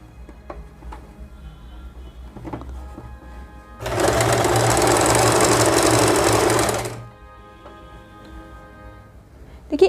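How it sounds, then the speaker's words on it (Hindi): A Usha Janome sewing machine runs an overlock seam: one steady, close whirring burst lasting about three seconds, starting and stopping sharply against a quiet room. "और अब हम इसको सिलाई लगा लेते हैं।"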